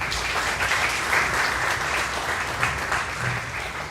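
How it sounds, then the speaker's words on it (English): An audience at a school district bond meeting claps steadily and warmly, a dense even wash of applause lasting a few seconds without any talking. "Let's give him a warm round of applause."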